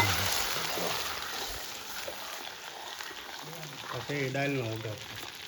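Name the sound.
tempering dal in sizzling hot oil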